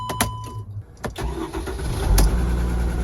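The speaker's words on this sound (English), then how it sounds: "turn the engine over and see if we get" A car engine cranks and fires up after a jump start from a LokiThor JP400 portable jump starter, with a few sharp clicks, a brief crank, then a loud catch settling into a steady rumbling idle close to the microphone.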